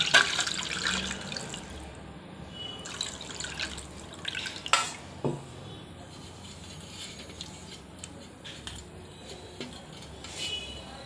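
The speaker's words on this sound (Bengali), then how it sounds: "পরিমাপ অনুযায়ী জল দিলাম।" Water poured into a kadai for masoor dal makes a splashing, trickling wash close by, with a few clinks of the pan in a quiet kitchen.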